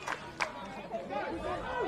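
Crowd at a women's Australian football match cheering and shouting after a good tackle, lively and fairly close, with commentary talk over the top.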